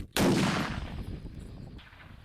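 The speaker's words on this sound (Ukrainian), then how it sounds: "Увага, постріл!" A single loud gunshot bursts out close by, followed by a long rumbling echo that fades away.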